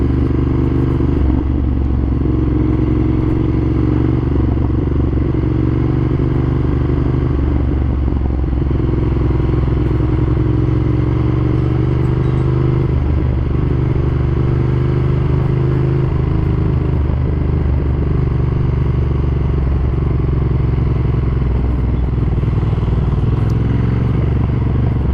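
A modified 2015 Ducati Monster 1200S rumbles loudly and continuously while being ridden, its engine droning with slight rises and falls in revs and no speech over it.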